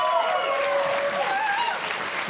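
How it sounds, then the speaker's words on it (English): A crowd at a stand-up comedy show applauds in a steady, dense wash, with a few whoops and voices rising over the clapping. "also give me a round of applause"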